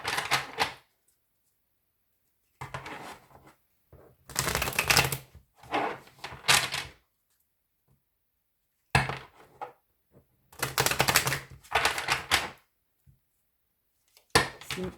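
An oracle card deck is shuffled by hand in several bursts of crisp papery riffling, each lasting a second or two and separated by silent pauses.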